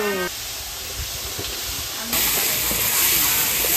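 Duck meat frying slowly in hot oil at a Rajshahi street food stall, a steady broadband sizzle and hiss that grows louder partway through, with faint background activity.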